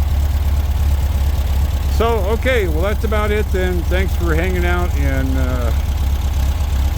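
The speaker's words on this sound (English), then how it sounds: "my fantastic Volkswagen engine, 1776, 100-degree cam, single port, Dellorto carburetors" An air-cooled Volkswagen 1776 cc engine with a 100-degree cam, single-port heads and dual Dellorto carburetors idles steadily in a 2001 ex-airport bus, a constant low drone under a man's speech that begins partway in.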